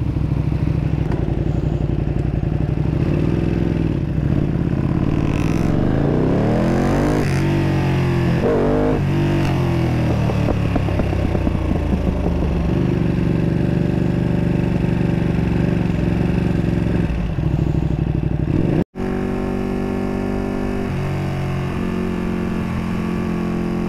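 Motorcycles ride around at a bike night in Royal Oak along Woodward, with a loud, close engine rumbling and revving up and down for the whole stretch, one rise in pitch as the bike accelerates.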